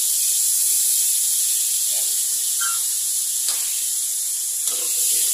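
Onions and tomatoes sizzle in a hot pan for Filipino pakbet, a steady loud hiss throughout with a few faint clicks and crackles, no voices heard.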